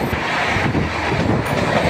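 Maa Tara Express 13187 rumbles along the track in a continuous, loud, unbroken run, heard from aboard the train with no talk.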